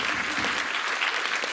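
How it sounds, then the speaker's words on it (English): Audience applause at a digital transformation forum, steady dense clapping from a room full of people, close and continuous throughout the short moment. "Let's have a warm applause to everybody together."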